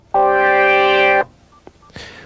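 A Kurzweil K2500 synthesizer sounds a single sustained tone on its default user envelope, holding flat for about a second before cutting off abruptly, followed by faint clicks and a short breathy noise.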